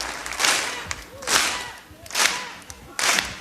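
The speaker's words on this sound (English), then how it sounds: "all we want to do is clap and clap" Rhythmic bursts of crowd noise at the Apollo Theater in 1987, with four swelling waves of clapping and cheering rising and falling from a large audience, moderately loud with a noisy, roomy texture.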